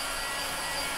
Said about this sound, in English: This is a heat gun. It's like a really powerful hairdryer